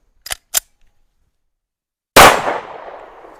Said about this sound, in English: Another jam with the Winchester.